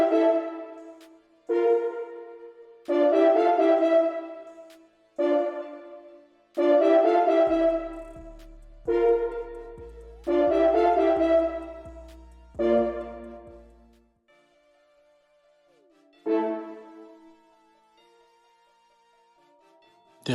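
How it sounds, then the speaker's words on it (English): Orchestral staccato brass from the BBC Symphony Orchestra sample library plays short, punchy stabbed chords in a repeating rhythm, with a deep low bass entering partway, loud and close, no talk. "next we're going to go to BBC Symphony Orchestra and get a staccato brass"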